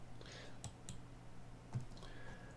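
A few soft, sharp computer mouse clicks, irregularly spaced, at close range in a quiet room while a 2013 iMac is operated.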